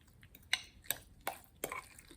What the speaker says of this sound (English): let me pick this up so I can stir everything up again